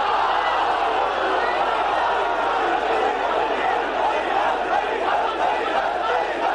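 A large crowd at a religious gathering chants slogans in a dense, continuous roar that stays loud and steady throughout, with many voices blending together.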